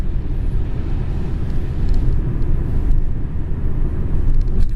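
An old-style BMW E36 325td 3 Series diesel engine runs with a steady, loud, low rumble that swells slightly but never breaks.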